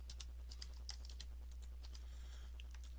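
Quiet keyboard typing: a steady patter of light, quick keystrokes on a computer keyboard, close and soft over a low hum, with no one talking.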